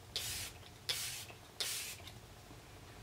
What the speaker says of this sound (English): I'm going to use the new Morphe Luminous Setting Spray